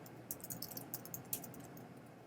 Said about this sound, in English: Okay, so I'm going to start typing the PNFs.